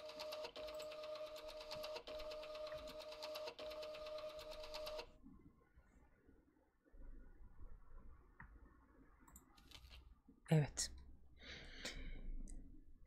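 A printer in the video game Tiny Room Stories runs a report, a steady mechanical buzzing with rapid ticking that lasts about five seconds and then stops, followed by quieter clicks and a soft breath.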